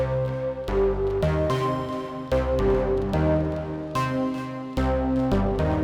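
A Moog Subharmonicon synthesizer sequencing a 5:3 polyrhythm, steady interlocking notes that repeat with regular accents, loud and close, with no talk over them.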